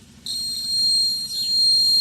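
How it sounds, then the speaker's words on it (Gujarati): A small electric buzzer, wired in a simple classroom circuit with a slide switch, snaps on after a brief quiet moment and then sounds a continuous, piercing high-pitched tone that stays loud and steady. "હવે આપણે આ સ્લાઇડ સ્વિચને ઓન કરશું તો આ આપણું બઝર છે એ ઓન થઈ જશે"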